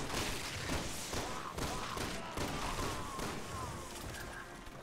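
Rapid gunfire bursts in the zombie shooter Resident Evil 6 crackle continuously over a loud game soundscape, dense and sustained throughout with no clear gaps.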